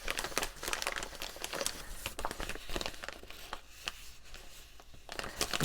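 A plastic Amazon mailing envelope crinkles and crackles as it is handled up close, a busy, continuous rustle of sharp crackly bursts with no talking.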